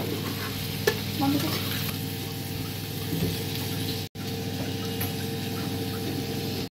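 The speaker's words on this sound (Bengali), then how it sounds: "দেখুন কি সুন্দর করে ভাজা হচ্ছে এগুলো।" Prawns sizzle and fry steadily in a hot pan, a constant crackling hiss with a few soft stirring sounds partway through.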